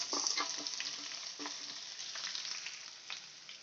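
Onions sizzling steadily in hot oil, a dense hiss with a few soft crackles, close by and fairly quiet, no voices.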